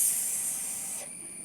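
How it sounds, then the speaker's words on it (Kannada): Bandas deep frying in hot oil make a steady, bright sizzling hiss that is close and continuous, easing slightly and thinning near the end. "ಹೇಗೆ ಫ್ರೈ ಆಗ್ತದೆ ಅಂತ ನನಗೆ ಸತ್ಯ ಗೊತ್ತಿಲ್ಲ ನೋಡೋಣ ಏನಾಗ್ತದೆ"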